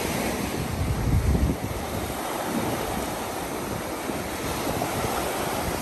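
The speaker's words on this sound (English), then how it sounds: "You can hear the ocean I make nice." Ocean surf washes along a shore in a broad, continuous roar with heavy wind buffeting the microphone, loudest near the start and then settling into a steady rush.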